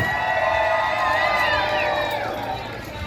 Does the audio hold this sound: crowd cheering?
yes